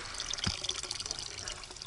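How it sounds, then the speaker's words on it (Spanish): Water runs from a tap while a bottle fills, a short splashing, trickling stream with a few drips, heard close and alone. "Cierra el grifo, que se escapa el agua"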